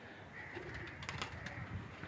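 A pigeon coos softly, a few faint low calls against a quiet background with light outdoor noise.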